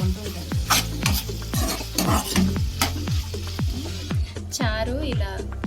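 Tamarind rasam is stirred in a cooking pot. A ladle scrapes repeatedly around the pot in regular strokes over a bubbling sizzle, close and fairly loud, with brief voice sounds near the end.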